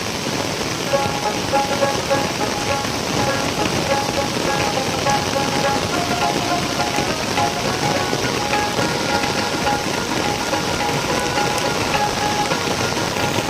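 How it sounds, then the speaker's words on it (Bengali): Heavy, steady rain falling in a village, a loud continuous hiss of drops on surfaces that holds without letup for the whole stretch, with faint voices in the background. "অনেক টাইম হলো বৃষ্টি দিতেছে কিন্তু বৃষ্টিতে কমতেছে না"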